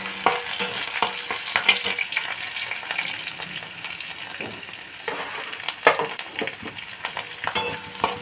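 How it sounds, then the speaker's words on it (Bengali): Crushed garlic and black cumin seeds fry in leftover oil in a kadai, a close sizzle with crackling pops and scraping stirs, uneven and rising and falling, no voices. "রসুনটা হালকা ভাজা হলো"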